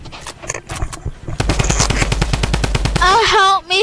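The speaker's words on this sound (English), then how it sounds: "Midas drum gun." Midas drum gun in Fortnite firing a rapid, loud burst of closely spaced shots after a few scattered single shots, followed by a voice shouting over game effects.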